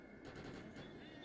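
Enemy gunfire in the video game Defiance crackles as a quiet, rapid burst of automatic shots, faint and distant-sounding under a steady background hum.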